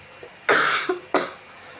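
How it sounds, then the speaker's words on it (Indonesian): A person coughs twice, a longer harsh cough followed by a shorter one about half a second later, close and loud, with no talking. "Duh aku batuk"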